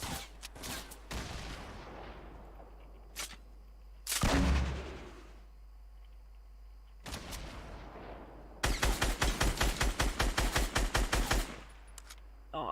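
Gunfire in a video game shooter: scattered single shots and short bursts, then a heavy blast, followed later by a long rapid automatic volley, loud and close with quieter gaps between.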